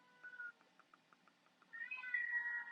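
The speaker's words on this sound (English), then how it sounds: "Ignore my cat in the background." A house cat meows repeatedly in the background, a string of short faint calls followed by a louder, longer drawn-out meow at the end, with no speech.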